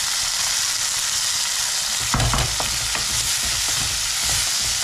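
Chopped vegetables sautéing in a hot pan, a steady close sizzle with a few clattering stirs of a spoon partway through.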